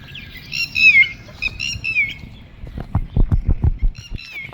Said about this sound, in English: Look at that, a red crow, red-winged crow right there.